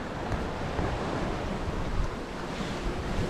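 Strong wind and surging waves around a sailboat under full headsail and mainsail off the tip of Arran, a broad, constant roar of wind noise and rushing water close to the microphone, with no voices.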